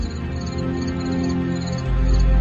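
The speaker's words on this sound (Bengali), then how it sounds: "ঝিঝি ডেকে চলেছে।" Night crickets as a sound effect in a ghost-story radio drama: a steady, unbroken chirring drone with no voices, lasting only a couple of seconds.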